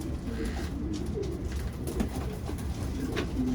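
Racing pigeons coo softly in the hen section of a loft, low murmuring calls over a steady background hum.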